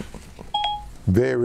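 A phone beeps with a short two-tone chime as its voice assistant activates, then someone speaks loudly and close by.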